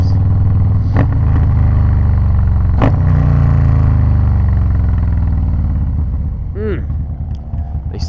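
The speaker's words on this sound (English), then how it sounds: "Let's just take a minute to listen to these downshifts." A motorcycle engine heard through 45mm helmet speakers drones loudly and steadily, with a few sharp blips of downshifts and a rising rev near the end under wind rumble.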